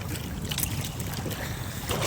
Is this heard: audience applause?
no